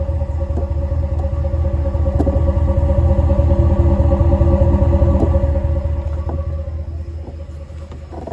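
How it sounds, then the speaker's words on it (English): A Hemi V8 engine idles with a deep, loping rumble, steady and close, with faint clicks over the low throb and no talking. "I love the sound of that Hemi"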